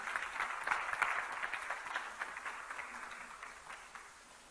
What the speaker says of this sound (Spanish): Démosle palmas a nuestro Dios.